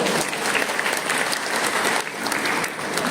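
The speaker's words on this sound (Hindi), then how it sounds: "एक बार मैं चाहता हूं उनके लिए जोरदार तालियां हो" Loud, dense applause from a large audience honouring the founder, a continuous roar of many hands clapping throughout with no break.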